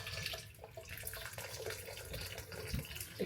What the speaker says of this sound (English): This is hot water going in up to the minimum level